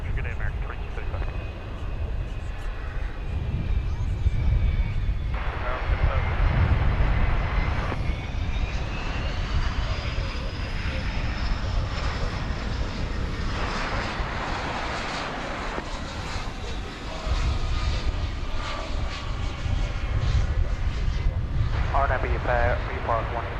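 Airliners taking off at night from DFW Airport, a loud, continuous engine roar with rising whine swells that builds and recedes repeatedly, under intermittent radio chatter.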